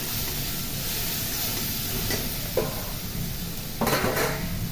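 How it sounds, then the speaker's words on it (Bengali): Spice paste being stirred and fried in a pan, with a steady hiss of frying, a scrape near the middle and clattering utensil knocks toward the end; rain may be falling while the cooking goes on. "দেখুন মশলা কষিয়ে দিয়েছি"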